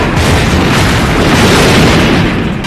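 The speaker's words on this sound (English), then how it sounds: "Fireworks." Fireworks explode in a dense, continuous roar of booms and bursts, loud and close, with no talking.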